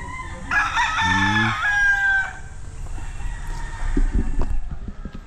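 On a shaded hillside farm near Mount Banahaw, a rooster crows loudly and nearby as chickens cluck and scratch, with a few short clucks and pecking sounds after the crow.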